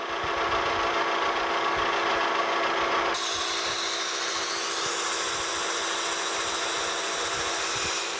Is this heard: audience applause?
no